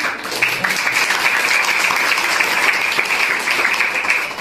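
An audience at a college event applauds steadily for several seconds, with dense overlapping claps and a faint voice underneath.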